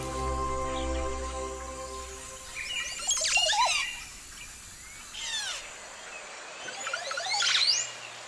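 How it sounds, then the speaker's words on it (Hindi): Liquid, gurgling calls of a Montezuma oropendola with rising and falling whistles, repeated in several bursts over a low hum that fades partway. "कैरिबियन का पक्षी मोंटेजुमा और पेंडुला दूसरी तरह की विचित्र आवाज लगाता है"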